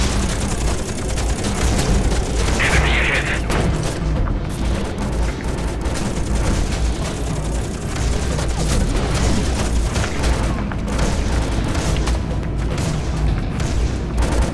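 Turret gunfire in the snowy co-op shooter Scourge Outbreak, a continuous heavy roar of booming shots and blasts blended into a dense loud wash with no clear pauses.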